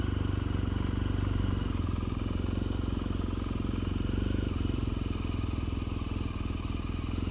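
A BMW R1200GS Adventure motorcycle with 18,000 km on it runs steadily nearby, its boxer engine giving a continuous low throbbing rumble with faint clatter and no break in the sound.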